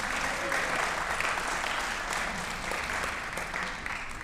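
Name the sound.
audience applauding and cheering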